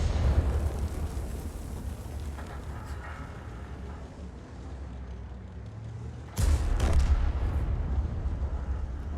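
A 152mm artillery shell from an Object 261 self-propelled gun in World of Tanks lands just behind a tank and explodes, one sudden loud boom that breaks through a low rumbling engine drone.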